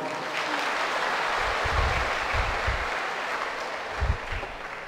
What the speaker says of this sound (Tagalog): Isa mo ng pampagising na palakpak sa Panginoon.